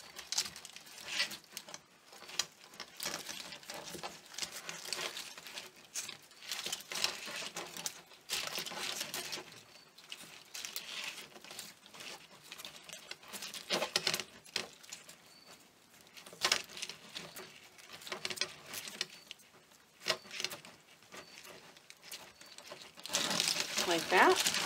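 Tape is wrapped and pressed around a small section of a fall pine cone swag garland, giving close, quiet crinkling and rustling in uneven bursts with short lulls between.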